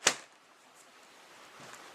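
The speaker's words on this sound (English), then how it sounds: "Once I bang it on the table or the floor," A single sharp knock as a container of dry beans is banged down on a table, followed by quiet room tone.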